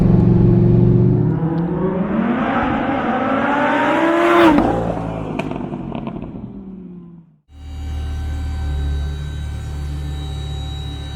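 A supercharged 830-horsepower Lamborghini Huracan Performante accelerates hard, its engine note climbing in pitch through a loud, sustained run before cutting off abruptly; a steadier, lower drone follows.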